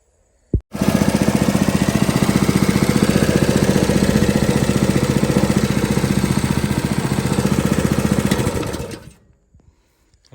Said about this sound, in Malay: saya akan cuba untuk on pump ni